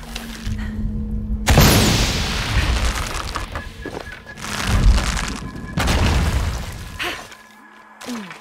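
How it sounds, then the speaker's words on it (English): Heavy boom of an in-game explosion in Shadow of the Tomb Raider, a sudden loud blast followed by rumbling debris and further crashing bursts, with a short ringing tone near the end. "Have to create an explosion."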